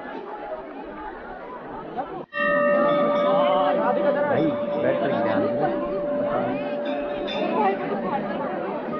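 A dense crowd murmurs and chatters at the Deeva Mandir temple gate on New Year's Day, a steady wash of many voices with a sustained ringing tone running through it.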